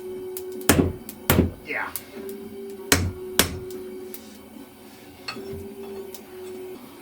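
Heated metal is struck with a hammer on an improvised anvil made from a small hatchet driven into a log, giving four or five loud, sharp ringing blows at irregular intervals, with a brief spoken word among them.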